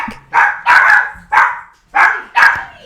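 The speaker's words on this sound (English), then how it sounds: "You'll also hear a lot of scampering and jangling and dog sounds." A dog barks loudly and close by, giving five sharp barks in an uneven rhythm with short silent gaps between them. No scampering is clearly audible.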